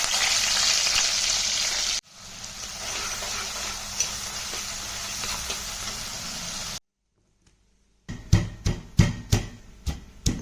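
Small prawns frying in a pan, a loud continuous sizzle that drops away, goes quiet, then returns as a series of sharp stirring scrapes and crackling bursts.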